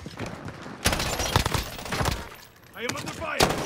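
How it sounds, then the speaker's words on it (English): Gunfire in a sniping shooter video game, with bursts of loud shots and cracks spaced irregularly over a few seconds, some close and sharp, mixed with other game noise. "I am under fire."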